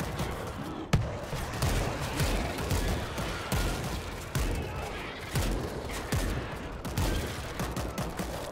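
Rapid bursts of gunfire from the zombie shooter World War Z crack out repeatedly and loudly, with sharp individual shots punctuating a continuous fusillade.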